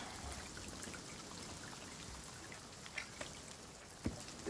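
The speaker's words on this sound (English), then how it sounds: "It's raining. It's raining pretty hard." Heavy rain in the video game Sea of Thieves pours steadily in a dense hiss, with a few sharper drops and splashes popping out near the end.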